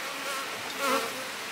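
Honey bees buzz around an outdoor hive colony, a steady faint hum that swells briefly as one passes close.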